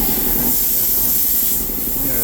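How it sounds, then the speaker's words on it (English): An air compressor runs in a workshop where a 1969 VW bus is being restored, giving off a loud, unbroken hiss that fills the whole stretch. "the compressor's running."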